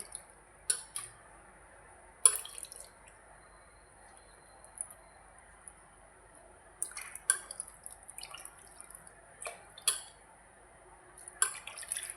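Mushrooms are washed gently by hand in a bowl of water, making soft, sparse splashes and drips separated by quiet pauses. The sound is close but faint.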